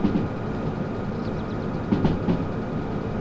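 A train rolls along rails at roughly 50 mph in the Derail Valley simulator, a steady wobbly rumble with a few louder clunks near the end and no talking.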